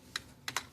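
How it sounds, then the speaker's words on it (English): Three quick, crisp clicks from a computer keyboard, one alone and then two close together, as a command is typed at a PC; close and faint, with nothing else around them. "go to cmd command and type ipconfig"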